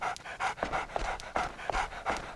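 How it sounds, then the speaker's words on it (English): A dog in the game Haunting Ground pants in quick, steady, close breaths, heard alone and loud. "It's a dog!"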